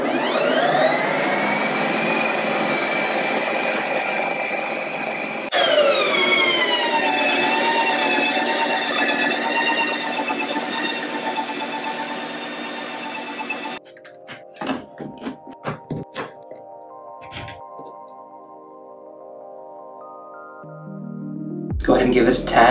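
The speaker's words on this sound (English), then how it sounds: "put it in the machine, crank it up, hit the sorbet button," A Ninja Creami machine spinning a frozen daiquiri mix into sorbet, a loud whirring whine with shifting pitch that drops and restarts, followed by clicks and handling sounds, while a person talks.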